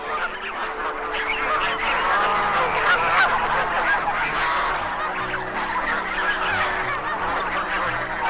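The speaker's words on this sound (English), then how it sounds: "Swan Lake attracts the largest flocks of geese in North America." A huge flock of geese at Swan Lake honking continuously, a dense overlapping chorus of many birds near and far with no pauses.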